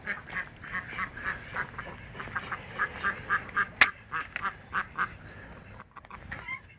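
A domesticated duck quacks outdoors in a rapid series of nasal calls, fairly close and loud, with uneven rhythm and a brief pause near the end.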